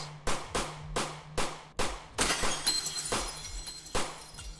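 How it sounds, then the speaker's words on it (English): Mirrors inside a house are smashed one after another, sharp glass shatters ringing out in a rapid irregular series, loud and close, with tinkling debris trailing between impacts. "breaking every mirror in the house"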